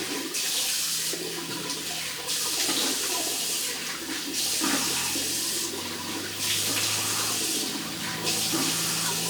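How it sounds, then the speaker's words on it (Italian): Cold water runs steadily from a bathroom tap in bursts, a broad continuous rush that swells and eases several times over the span, close and fairly loud with no talking. "Acqua fredda così prendiamo un po' più di fresco."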